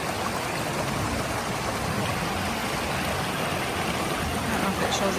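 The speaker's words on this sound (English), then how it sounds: "Look at this pretty river. Tons of water." A river swollen by rain rushes steadily along the Appalachian Trail, a continuous broad wash of flowing water close by with no pauses.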